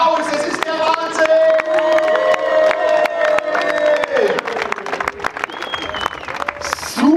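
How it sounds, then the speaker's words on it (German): Live comedy show crowd at a Bundeswehr base in Koblenz, Germany, applauding and cheering continuously and loudly throughout, with whoops and shouts rising over the clapping. "Applaus, ihr flippt aus."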